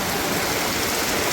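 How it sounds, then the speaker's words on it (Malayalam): Heavy rain falls continuously during a Meelad day celebration, a loud, dense rushing wash with no breaks in the brief stretch. "നല്ല മഴയാണ് പെയ്യുന്നത്"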